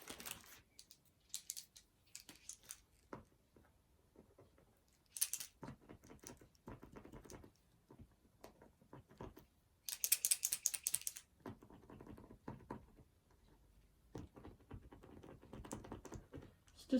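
A 0.7mm fine tip Posca paint pen is pumped tip-down on paper, making close, quiet tapping clicks in irregular bursts separated by short pauses.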